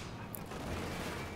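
Tank cannon fire amid a dense, continuous battle din in the video game Company of Heroes 2, with rumbling explosions and gunfire running throughout rather than a single isolated shot.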